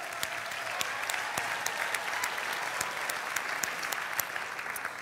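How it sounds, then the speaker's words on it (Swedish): An audience at a church youth conference at Livets Ord applauds a pastor, brisk continuous clapping from a sizeable crowd heard at moderate distance, with no voices on top. "Du är också värd en applåd, Mattias"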